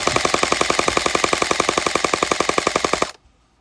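A gel blaster on full auto fires a rapid, steady stream of about twenty-five loud shots per second for around three seconds, then abruptly stops, leaving near silence.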